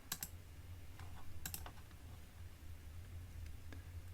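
Keys on a computer keyboard clack in a few quick bursts, with sharp isolated presses such as an Enter key standing out over a low steady hum in a quiet room.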